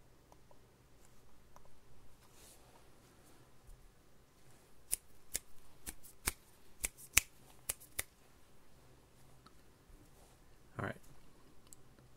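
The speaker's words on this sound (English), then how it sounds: "Bully keyboard designed by Zoll. Duhok bitter T switches with GMK Vaporwave keycaps." Typing on a Bully keyboard designed by Zoll, fitted with Durock T switches and GMK Vaporwave keycaps: a quiet room, then a short cluster of crisp, distinct keystroke clicks in the middle, with a few faint taps before and after.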